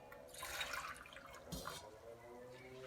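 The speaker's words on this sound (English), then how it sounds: "I'm just going to pour a little bit into another container" Vegetable dye liquid poured into another container, a faint splashing trickle with brief bursts of pouring.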